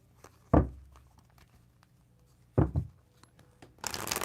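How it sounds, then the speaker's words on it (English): Tarot cards being shuffled by hand, two short riffling bursts about two seconds apart in a quiet room, close and soft, followed by a rustling handling noise at the end. "Gonna give it a shuffle."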